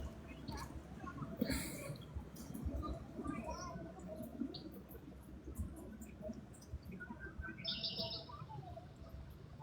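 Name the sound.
blackbird singing at night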